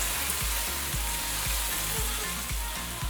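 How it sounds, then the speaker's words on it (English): Soy sauce hits a hot pan of garlic and ginger for teriyaki chicken, giving a loud, continuous sizzle with bubbling and crackle, and no voices over it. "I'm going to go in with some light soy sauce or low sodium soy sauce"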